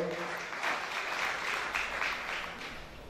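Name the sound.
applause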